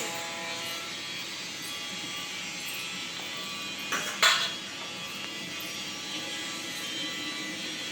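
Gram flour batter being mixed in a bowl gives faint scraping and a single louder clatter near the middle, over a steady low background hum.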